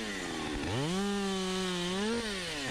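A chainsaw with a dull chain cuts into a leaning, hung-up tree. The engine whines loud and close with a steady pitch that drops as it bogs into the wood, then climbs and drops again near the end.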